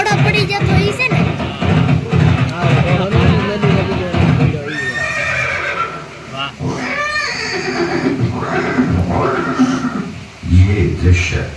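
A horse whinnies in a staged scene of Maharana Pratap and his famed horse after the Haldighati battle. Several drawn-out, wavering neighs rise over dramatic voices and crowd noise.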